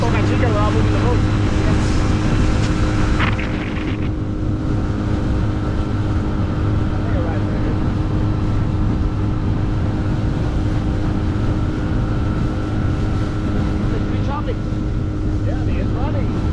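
A motorboat engine drones steadily at about 18 to 20 miles an hour with wind buffeting the microphone, loud and continuous throughout.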